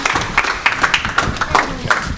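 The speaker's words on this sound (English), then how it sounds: "give a round of applause, please, for Zealy." Applause from a town hall and community potluck crowd, a small group clapping in uneven bursts with voices mixed in.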